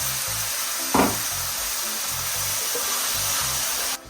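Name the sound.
tomato paste and onions sautéing in pan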